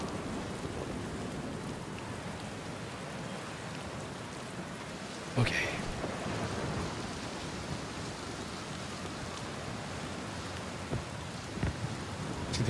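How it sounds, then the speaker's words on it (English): A storm in the video game Outer Wilds: steady heavy rain hiss with a sharp thunder crack midway and faint later rumbles, one brief spoken word from a player. "I kind of wanted to stand here until a storm hits."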